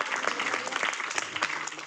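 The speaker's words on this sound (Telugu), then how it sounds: "గట్టిగా చప్పట్లు కొడదాం" A church congregation clapping loudly together, a dense, rhythmic patter of many hands that is steady and close throughout.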